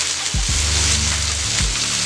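Smash burger patties sizzle loudly and steadily on a hot griddle, a dense frying hiss with a couple of low thuds from spatula contact and no talking.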